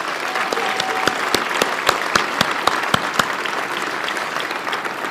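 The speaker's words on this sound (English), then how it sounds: "let's take a second and give a round of applause to the team here at Valley Church and the security team." A church audience at Valley Church claps in a sustained round of applause, a dense steady patter of many hands, close and loud, with a few sharper claps standing out.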